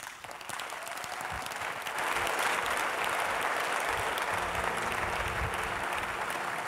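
A church congregation applauds together to acclaim the Lord, a steady wash of clapping that swells after a couple of seconds and holds loud and even, with faint voices underneath.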